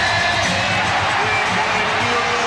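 Basketball arena crowd jeering the Chicago Bulls late in a 1992 playoff Game 7 against the New York Knicks, a dense, steady roar of voices filling the space, loud and continuous.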